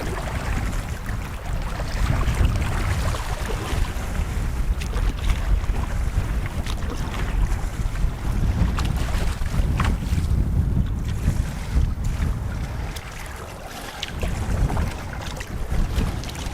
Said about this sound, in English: there's pretty decent headwind to send me off